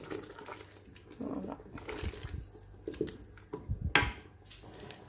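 A large glass of water, roughly 300 to 400 ml, is poured into a pot of fish couscous sauce with fried red pepper, giving close splashing and gurgling liquid sounds in uneven bursts.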